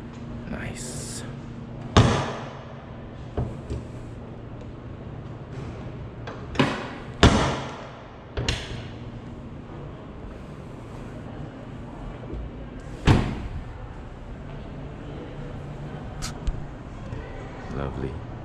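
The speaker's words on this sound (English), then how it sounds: "Let me just close up the doors" Doors of a Porsche Taycan 4S Cross Turismo being shut outdoors, giving several sharp, solid thumps spread across the stretch over a steady low hum, with one loud slam near the middle.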